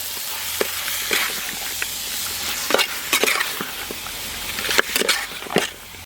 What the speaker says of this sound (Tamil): அப்படியே நல்லா கலந்து விட்டுக்கலாம்